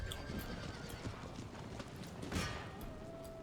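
Muffled hoofbeats of galloping horses clatter in a busy, noisy mix amid distant commotion in the video game Empire: Total War, faint and far off.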